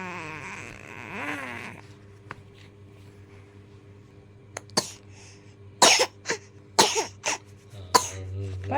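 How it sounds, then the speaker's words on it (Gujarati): A person coughs several times in short, loud, harsh bursts, close to the microphone, in a quiet home kitchen; a low steady hum runs underneath. "પાછી ઉધરસ આવવા માંડી આને લે."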